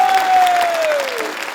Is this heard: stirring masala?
no